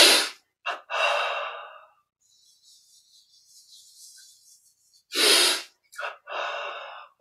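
Deep breaths taken during a meditation breathing exercise, several audible inhales and exhales close to the mic, with quiet pauses between them.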